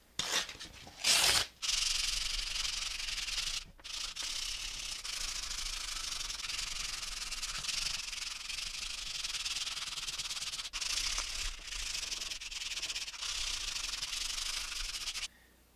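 Steady back-and-forth sanding of rubber polymer clay with 220 grit sandpaper, a close, continuous scratchy rasp with a few brief pauses.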